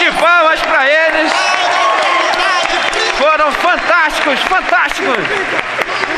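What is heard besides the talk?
audience applause for performers in church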